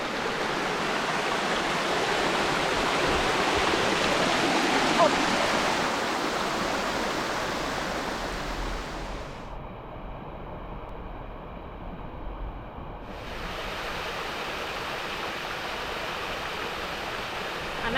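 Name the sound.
mountain waterfall and stream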